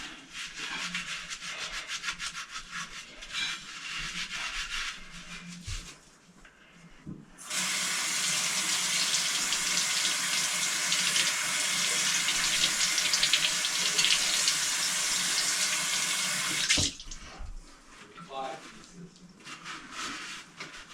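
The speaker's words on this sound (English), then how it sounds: "I'm gonna wash this. Just get the soap dish clean." Running water from a bathroom sink tap gushes steadily for several seconds while a soap dish is rubbed and scrubbed beneath it, with quieter handling noises before and after.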